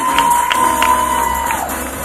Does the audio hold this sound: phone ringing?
no